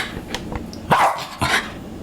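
A dog gives two or three sharp, close barks with a faint whimpering tone, short bursts separated by brief pauses, alone without talking.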